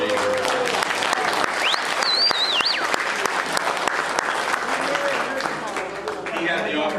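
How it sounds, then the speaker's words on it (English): An audience at a political talk event applauds a guest, a dense, continuous patter of clapping with a whistle rising over it, and a voice speaking faintly underneath. "But again, another round of applause for Lord Monckton for being here."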